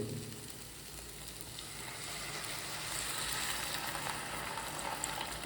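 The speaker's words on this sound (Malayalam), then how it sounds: "നമുക്കിനി കുറച്ച് വെള്ളം ചേർത്ത് കൊടുക്കണം. സാധാ പച്ചവെള്ളമാണ് ചേർക്കുന്നത്." Plain water poured into frying curry in a pan sets off loud, continuous sizzling and bubbling that holds steady and swells slightly toward the end, with no voices.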